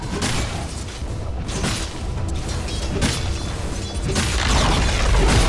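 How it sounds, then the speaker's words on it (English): Radiant's bottom tower crumbling in Dota 2, heavy booming crashes and rumbling impacts repeating through a loud, dense battle din. "Radiant's bottom tower has fallen."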